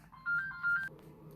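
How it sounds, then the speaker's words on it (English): A telephone ringtone sounds twice in quick succession, a bright electronic warble over low room hum, moderately loud and close, then cuts off, with no one speaking. "Sorry, my telephone rang."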